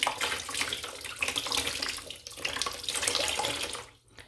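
Tap water runs steadily into a sink while face cleansing foam is rinsed off, a close, dense splashing rush that shifts as hands move through the stream, then cuts off abruptly near the end.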